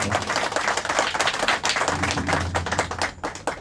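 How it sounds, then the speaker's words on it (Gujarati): Audience applause for a folk singer after a devotional performance, a dense, steady round of many hands clapping close by that carries on without pause throughout. "એકવાર જોરદાર તાળીઓ થઈ જાય"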